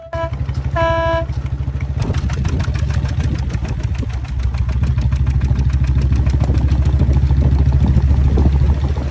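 An unusual motorcycle engine fires up after a brief horn-like tone, then runs with a loud, rapid, pulsing exhaust beat that revs slightly higher partway through, close by.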